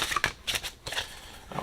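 A Celtic Astrology Oracle card deck is shuffled by hand in a few quick, papery riffles and flicks. The bursts are close and crisp, separated by brief pauses, with no talking.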